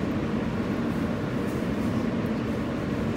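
Steady low rumble inside a Manhattan-bound W local subway train running from Queens in New York City, an even mechanical drone with no voices, fairly quiet throughout.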